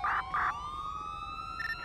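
Police car sirens wail in a Dept. of Justice Cops police game, a loud, steady electronic siren sweeping up and down and running continuously with no talk over it.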